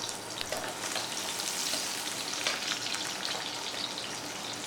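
Onions frying in a pan for a Bangladeshi tilapia fish curry, giving a steady, even sizzle throughout with no voices.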